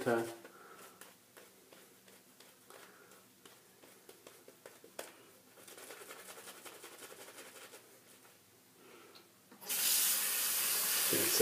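A bathroom tap runs while shaving soap is lathered for a straight razor shave, starting with scattered small clinks and splashes under talking and ending in a loud, steady stream of water.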